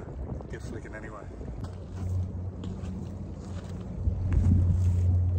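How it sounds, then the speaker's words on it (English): Steady low rumbling wind buffets the microphone, swelling louder toward the end, with faint talk underneath. "Super windy down here."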